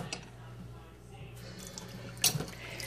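Water runs from a kitchen sink tap while a bowl of mashed banana oatmeal is mixed, a soft steady trickle with a brief splashing burst near the end, faint and close.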